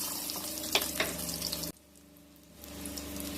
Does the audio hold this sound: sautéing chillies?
yes